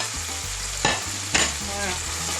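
Turnips and carrots sizzle in a hot pan for a gluten-free couscous sauce, a continuous frying hiss broken by two louder scraping stirs, with no voices.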